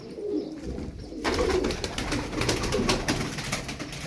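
Several pigeons coo softly and repeatedly nearby in a low coop, their murmuring calls overlapping against a rustling background, with no talking.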